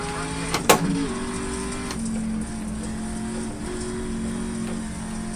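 A race car engine in the iRacing sim, suffering engine trouble, holds a steady mid-pitched drone with a sharp blip near the start and brief pitch shifts, loud and close with no talk over it.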